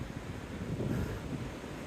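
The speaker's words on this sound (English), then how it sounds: "It's still windy." Steady wind blowing on an Appalachian Trail hillside on a sunny day, a continuous low roar with gusty swells, fairly faint, with no other sounds.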